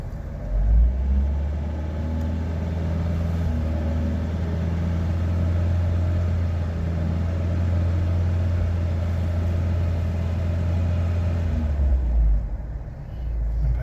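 A Polonez Caro's engine idles on petrol after being switched over from gas, a steady, fairly even low rumble that holds close and constant for about twelve seconds before cutting off.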